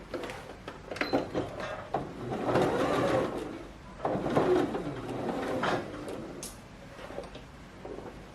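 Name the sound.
sewing machine stitching around a halter neck top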